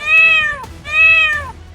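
A cat meows twice, clear and fairly loud, each cry a drawn-out, falling call with a short pause between.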